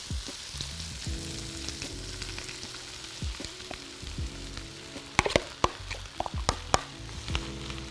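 Steady frying sizzle from a pan, with scattered sharp clinks and scraping of a utensil growing busier toward the end; no voices.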